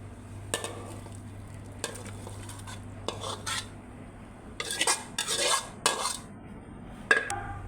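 Catfish curry with young tamarind leaves is ladled from a pot into plates and bowls, giving scattered metallic clinks and scrapes of utensils against cookware over a quiet kitchen hum.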